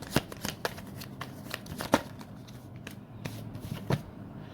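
Tarot cards shuffled by hand at close range, a run of crisp riffles and slaps in an uneven rhythm with brief pauses, and no voices over it.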